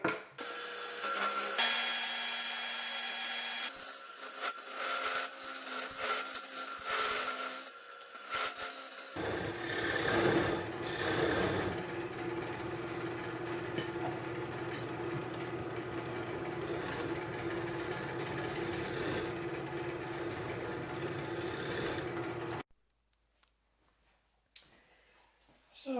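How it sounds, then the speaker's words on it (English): On a wood lathe, a candy dish base mounted on a worm screw is rounded and shaped, the motor humming steadily under intermittent scraping and rasping tool contact before the sound cuts off near the end. "I have my base for my candy dish mounted on my lathe on a worm screw, and I'm just going to round this up and then start to shape it."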